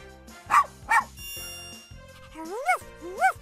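Cartoon dog in the Super Why video game barks twice in short bursts, then gives two higher, rising yips over soft background music, sounding like a voice imitating barks.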